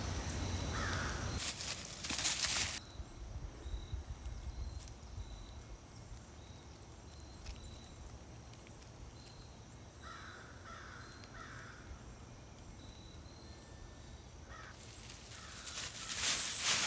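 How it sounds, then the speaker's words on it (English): Crows caw outdoors in short bursts, a few harsh calls clustered together at a moderate distance over a quiet background with occasional louder rustling noise near the start and end. "You can hear the birds, which is what she's listening to."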